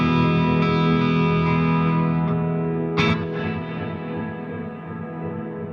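Wet-only convolution reverb from a DoGood Dome 1 impulse on a MOD Dwarf pedal, a dense sustained wash of tone with a bright accent near the middle that blooms into a long reverberant tail and slowly fades.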